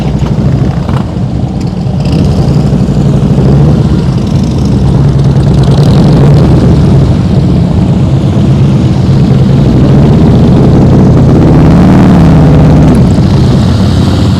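A motorcycle engine growls up close and loud during slow-speed riding practice, a steady low drone that swells and dips slightly in pitch as the throttle changes, with no voices.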